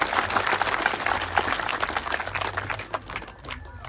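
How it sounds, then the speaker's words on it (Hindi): A crowd at an outdoor village political gathering in Rajasthan claps to welcome a candidate to the stage, sustained dense applause that tapers off toward the end with voices mixed in. "जोरदार तालियों से अभिनंदन।"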